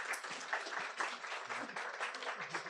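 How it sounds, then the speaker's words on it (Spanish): Steady, fairly close applause from a lecture audience honoring a doctor after her talk on environmental dynamics and landscape domestication, many hands clapping at once with no pauses. "Un aplauso, por favor, a la doctora."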